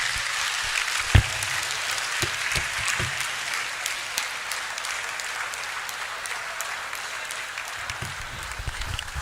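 Audience at a university registry discourse in Ogbomoso, Nigeria, clapping in a hall, a loud, sustained crowd applause with a sharp thump near the start and a few louder individual claps, gradually easing off.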